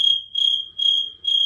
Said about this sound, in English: that's the sound of crickets.